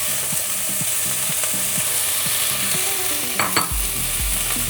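Garlic, onion, carrots and celery saute in rendered bacon fat, a steady loud sizzle with repeated scraping stirs, and a sharper hiss swelling near the end as more vegetables hit the pan.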